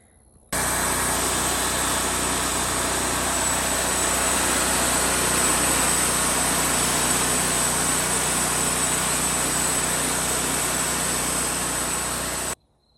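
A Wood-Mizer LT40 band sawmill runs with a steady, loud engine drone and mechanical whine, starting abruptly and holding constant before cutting off.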